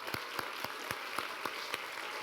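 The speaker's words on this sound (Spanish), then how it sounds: "aquí les voy a pedir un aplauso" At a talk on chocolate history, an audience applauds a Colombian 70% cacao chocolate, a faint, distant patter of clapping with one regular, sharper clap repeating about every quarter second.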